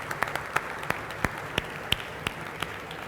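Audience applause at a business expo talk, a moderate crowd clapping steadily with several sharp individual claps standing out, at medium distance.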